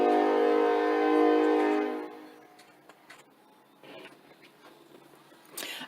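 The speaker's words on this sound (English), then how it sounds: "because the train is coming" A train passes close to a home: a loud, dense rumble with sustained horn-like tones dominates for about two seconds, then drops away to a quiet background with faint scattered noises.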